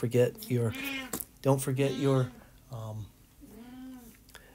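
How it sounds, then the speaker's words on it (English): A house cat meows several times in drawn-out, wavering cries close to the microphone, mixed with a person speaking during a statistics lecture. "And my cat is waking up from a bad dream"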